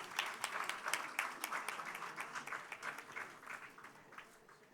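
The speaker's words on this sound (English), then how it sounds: "I'm sure we can have a better round of applause." Scattered applause from a graduation ceremony audience, individual claps distinct and somewhat sparse, moderately faint and steady throughout.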